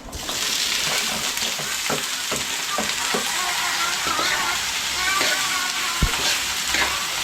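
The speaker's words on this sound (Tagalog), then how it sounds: "hiulog na natin dito sa ginisa natin bawang at sibuyas" Chayote and carrots tossed into a pan of sautéed garlic and onion for fresh pancit, giving a loud, continuous sizzle with scraping stirs and clinks from a utensil against the pan.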